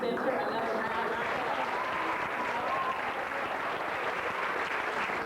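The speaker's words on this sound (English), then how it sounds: "give the Youth Cultural Center another round of applause." A crowd at an anniversary celebration keeps up steady, dense applause for a youth cultural center group, a continuous wash of clapping with faint voices blended in.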